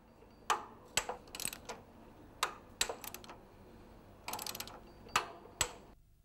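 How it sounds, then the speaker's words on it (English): Four M8 screws being tightened on the bearing plate of an ABB UBB tap changer, with sharp, close ratchet clicks in irregular bursts over a quiet background. "Tighten the four M8 screws in the corners of the bearing plate."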